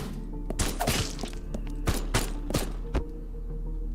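Gunfire in the video game Haydee, a series of about a dozen sharp, spaced shots with thuds and impacts over a low steady hum, close and fairly loud, no talk.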